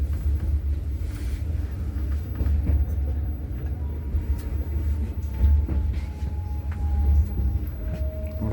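A passenger train in Poland runs at about 160 km/h, heard from inside the carriage as a continuous loud low rumble with steady rolling wheel noise and faint higher squeals, with no talk.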